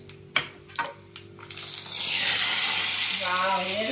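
Fresh curry leaves dropped into hot tempering oil burst into a loud, close, hissing sizzle that swells and stays steady after a few soft knocks, with brief talk just before.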